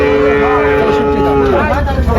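A large dairy cow with her calf at a cattle sale lets out a long, loud, drawn-out moo that bends downward near the end, close to the listener, with no talk over it.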